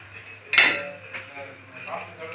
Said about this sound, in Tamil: மூடி வைக்கிற பாருங்க.